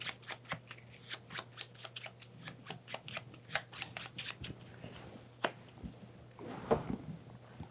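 A deck of Newton board game cards is shuffled by hand, close up, in a rapid series of crisp riffling flicks and taps with a steady low hum underneath.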